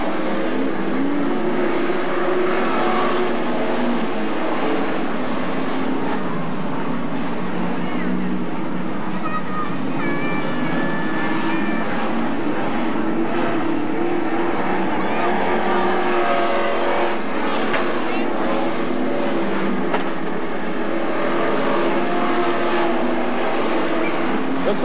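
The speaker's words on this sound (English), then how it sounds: "running the race right now is for the number four slot between McCord and the 28X." Dirt track race cars roar around the Magic City Speedway oval in Billings, Montana, a continuous loud engine drone with passing swells, under a track announcer's voice speaking almost throughout.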